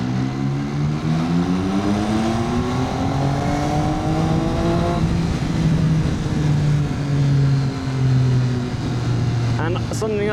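Motorbike ridden gently through Chiang Mai's old city, a steady engine drone with shifting pitch and traffic noise around it, with talk over the ride.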